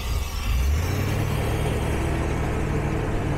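A car engine revs up hard and then settles into a steady, loud idle right after the idle air control hose is pulled off; the low engine drone runs continuously with no talk.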